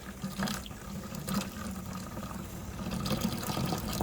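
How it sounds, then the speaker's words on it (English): Garden hose water rushes steadily through a first-generation Cummins truck's heater core during a flush, a continuous close splashing flow with slight surges. "I'll turn the garden hose on and see if any gunk comes out."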